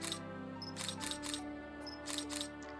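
Camera shutter clicks from the video game Pom Gets Wifi ring out loudly in quick repeated pairs over steady game music.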